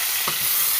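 Bagara rice being stirred in a frying pan, a brief scrape of the spoon over a steady sizzle of frying.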